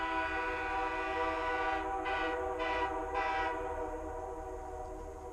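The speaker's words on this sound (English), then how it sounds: "At 3 blasts of the whistle means the engineer sees me and they're going to stop." A train whistle sounds in several short blasts, loud and close, over a steady rumbling drone of the locomotive.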